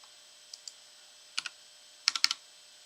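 A password is typed on a computer keyboard: a few separate, crisp key clicks, then a quick burst of four or five taps close together, each sharp and near against a quiet background.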